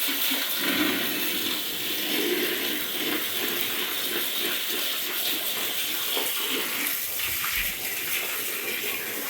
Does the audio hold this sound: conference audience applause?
no